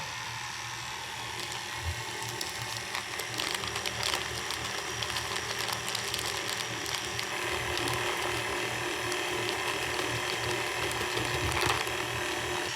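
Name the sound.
mixer mixing powdered sugar at slow speed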